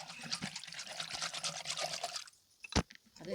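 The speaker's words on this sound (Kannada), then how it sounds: "ಒಂದು ಬಟ್ಲು ಮೊಸರಿಗೆ 3 ಬಟ್ಲು ನೀರು ಹಾಕೊಳ್ಳೋಣ." Water is poured into yogurt to make thin buttermilk, a faint, brief trickling and splashing of liquid in a quiet kitchen, ending with a short sharper splash.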